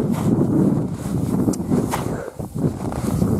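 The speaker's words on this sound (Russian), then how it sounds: "Ветер сильный поднимается." Steady roaring wind buffeting the microphone outdoors by a river, loud and continuous with gusting swells and a brief lull midway.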